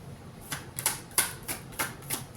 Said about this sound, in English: I was just shuffling the card because there is nothing else to clarify.